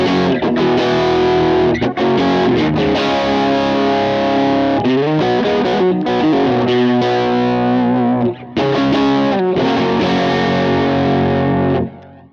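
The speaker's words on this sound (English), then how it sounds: "And some whole reverb at the end." Distorted electric guitar through a Kemper, chords ringing out loud and continuous with a wash of reverb and modulation, sustaining into a tail at the end.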